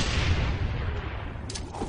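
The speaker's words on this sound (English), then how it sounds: "Just toss a little nade right there." A grenade explodes in a first-person shooter video game, a loud, dense blast rumble that fills the short moment and then fades, with no clear talk over it.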